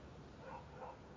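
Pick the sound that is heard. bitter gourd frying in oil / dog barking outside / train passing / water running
dog barking outside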